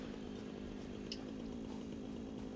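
Chainsaw attack in the video game Satisfactory: a steady, droning saw buzz runs unbroken throughout, loud and even with no pauses.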